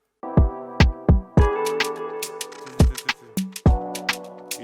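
A bouncy afroswing beat with deep kick thumps, bright percussion ticks and sustained guitar chords in a swinging, syncopated groove, loud and upfront.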